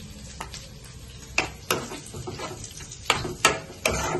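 Mushroom cream sauce with fresh cream being stirred in a pan, soft bubbling and simmering broken by several sharp scrapes and clacks of the utensil against the pan.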